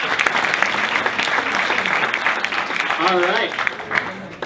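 Audience applause for a presenter at an education technology showcase event, a steady wash of clapping filling the room, with someone talking over it near the end.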